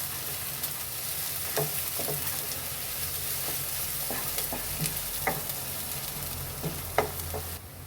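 Chopped onions frying with ginger-garlic paste for chole in a home kitchen, a steady close sizzle with scattered spoon scrapes and stirring clicks throughout, no talking.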